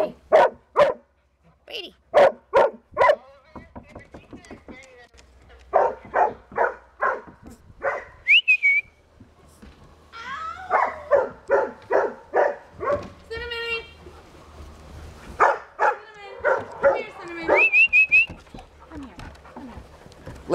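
Several dogs bark in sharp repeated bursts, close by, with yips and a whimper mixed in, while a person talks between the barking.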